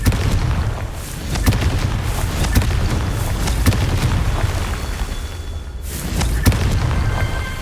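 Confringo fire spells in Hogwarts Legacy burst repeatedly during a duel, sharp cracking explosions landing every second or so over a low, rumbling battle bed, with a heavier blast near the end.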